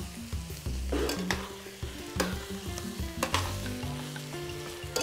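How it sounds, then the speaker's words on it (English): Chicken tagine ingredients sizzle in a hot pan while a utensil stirs them, with a crackling frying hiss broken by irregular scrapes and clacks against the pan, no speech. "Mix everything together."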